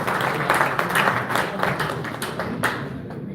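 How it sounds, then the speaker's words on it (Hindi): An audience at a mushaira breaks into applause, a dense, steady patter of many hands clapping that fills the hall, then tapers toward the end. "आप लोग अपने लिए एक दफ़ा तालियां बजा लीजिए।"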